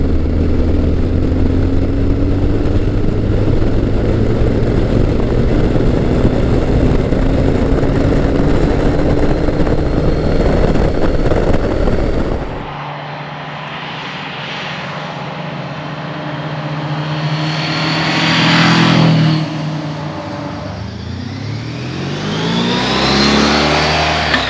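A 2007 Honda ST1300 sport-touring motorcycle engine while riding, loud and steady with rising rev tones, then dropping away and swelling again as it accelerates through the second half.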